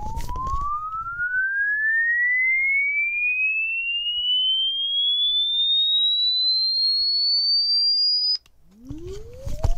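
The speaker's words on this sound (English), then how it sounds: "I'm going to run in a signal generator and sweep that signal" A signal generator's steady pure tone, played through a speaker, glides smoothly upward in pitch for about eight seconds, loud and continuous, then cuts off abruptly as a brief rumble follows.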